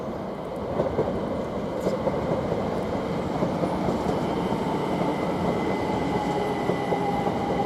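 Class 387 electric multiple unit 387-106 arrives at Stevenage station on the East Coast Main Line, a steady rolling rumble with faint wheel noise and a thin high whine that continues throughout.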